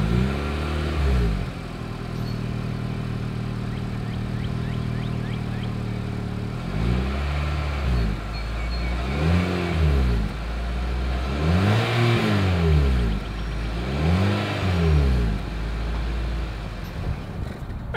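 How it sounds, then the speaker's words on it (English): A 2022 Mitsubishi Outlander exhaust idles steadily for several seconds, then is revved four times in quick succession, each rise and fall of engine pitch clear and close, with no talking. "As always, here is that exhaust clip."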